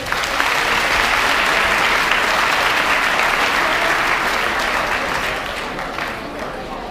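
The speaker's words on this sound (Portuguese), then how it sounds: "Gente, palmas para Gabriela." Audience applause at an academic debate session for a woman named Gabriela, thick and continuous clapping from a sizeable crowd that holds steady and then slowly fades toward the end.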